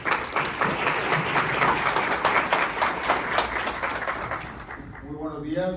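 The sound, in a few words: audience applause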